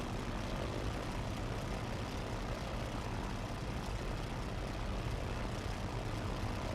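Steady, dense drone of a propeller airplane engine in a flight simulator game during a runway landing, holding a constant loud roar throughout with no voices.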